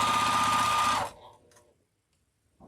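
A sewing machine runs steadily while stitching a quilt block seam, a close, even motor hum that stops abruptly after about a second, leaving faint handling clicks and near silence.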